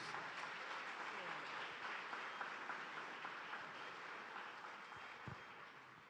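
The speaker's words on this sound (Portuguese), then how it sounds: "Dê uma forte salva de palmas para Jesus." At a Sunday church service, the congregation breaks into sustained applause, a continuous rush of clapping that stays fairly even and slowly tapers off.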